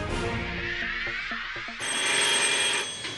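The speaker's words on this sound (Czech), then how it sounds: "teď zazvonil telefon poprvé" An old landline telephone rings in a Czech household during a first connection, a loud electric bell trill that starts abruptly and carries through, with steady room noise around it.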